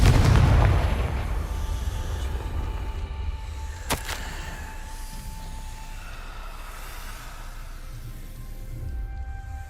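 A Confringo fire spell explodes in Hogwarts Legacy: a loud booming burst at the start, a sharp crack a few seconds later, then a long fading rumble under the game's ambient tone.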